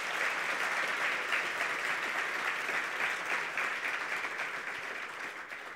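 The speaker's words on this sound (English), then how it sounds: "certainly deserves a bigger and a warmer round of applause" Sustained audience applause for the Prime Minister of Namibia at a national green hydrogen conference, a steady dense wash of many hands clapping that holds at full strength and fades slightly toward the end.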